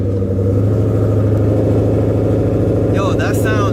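A car engine idles close by with a steady deep rumble, and a voice breaks in near the end.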